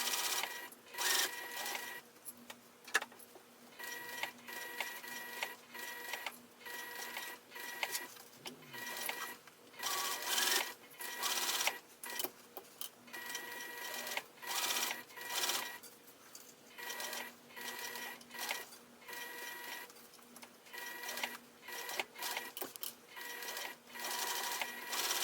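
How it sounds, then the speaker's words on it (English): A sewing machine stitches zipper tape onto a cosmetic pouch with back stitching, running in fast rattling bursts separated by short pauses throughout, loud and close with no talking. "I'm going to back stitch whenever I first start and stop sewing."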